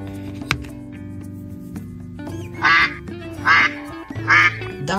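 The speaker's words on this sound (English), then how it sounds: "Duck, pato, pato, pato." A duck quacks three times in short, evenly spaced bursts, fairly close and clear over a steady background of music, with no talking.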